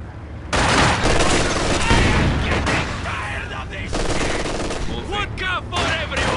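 Dense gunfire in the video game Company of Heroes 2, with rapid machine-gun bursts and rifle shots crackling over booming impacts on a Soviet battlefield, continuous and loud throughout.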